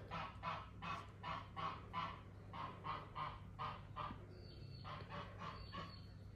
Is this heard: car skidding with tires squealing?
no